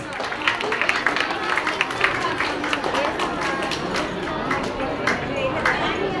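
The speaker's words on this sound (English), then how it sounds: "Children, please give them a big round of applause" Schoolchildren at a science expo prize-giving applaud steadily, many small hands clapping in a continuous patter under crowd murmur and a voice on a loudspeaker.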